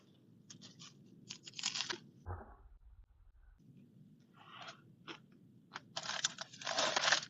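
Close, crisp crunching and wet chewing as someone bites into a scramble of egg and Polish sausage, coming in bursts separated by quiet pauses, with a low thump in the middle.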